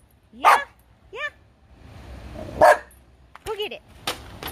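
Close, loud barking from a black dog: a sharp bark, a quick yelp, another bark, then a cluster of whiny yips, with a voice talking between them.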